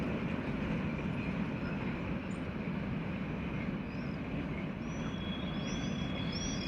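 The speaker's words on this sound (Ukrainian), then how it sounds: "Бачите, приходить потяг." A train rolls in with a steady, dense rumble at moderate distance, continuous throughout, with faint high squeals near the end and no voices.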